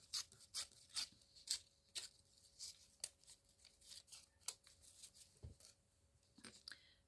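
Scissors trim very thin paper for a handmade ephemera folder, giving a quick series of crisp, quiet snips in a steady rhythm, close up with no talking.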